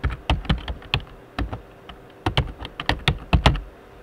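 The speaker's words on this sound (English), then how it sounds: "So I'm going to type in the password" Keys clatter on a computer keyboard as a password is typed in, a steady run of close, crisp taps in small bursts with brief pauses, with no voices.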